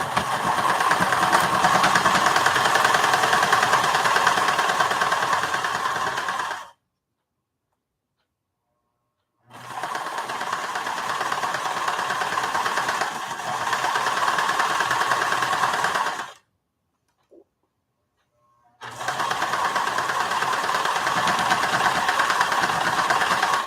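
A sewing machine stitches a fabric project bag, giving a close, steady rapid motor hum and needle rattle in three long runs separated by short silent pauses.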